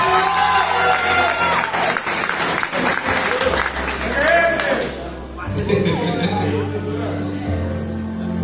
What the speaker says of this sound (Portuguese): Aplausos, nosso Deus.